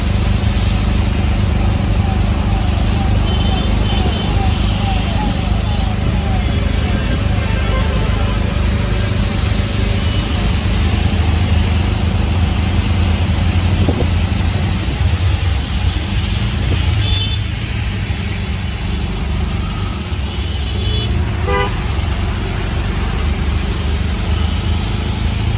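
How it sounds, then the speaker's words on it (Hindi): Rainy Bangalore road traffic: a dense, continuous roar of engines and tyres on wet pavement, with a brief car horn toot near the end. "और ये है हम लोगों का बेंगलुरु का ट्रैफिक"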